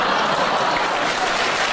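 A crowd at a live comedy show breaks into thick, continuous applause, loud and close, many hands clapping together at an even level without talk.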